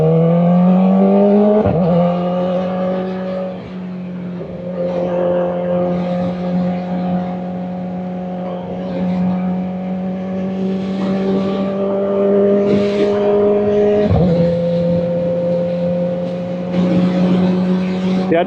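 A Kawasaki ZX-4RR motorcycle riding on the road, its engine a loud, steady drone that rises and falls, with two sharp gear-change dips along the way.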